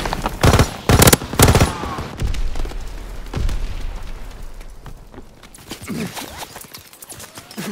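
Automatic gunfire in Call of Duty: WWII, heard as loud rapid bursts of shots at the start and a scattered, busier exchange of fire and impacts that follows.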